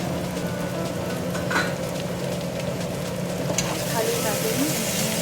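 Beef stirred in a pan with garlic, ginger and onion gives a steady, close sizzle of frying with scraping stirs, while a low constant hum runs underneath throughout.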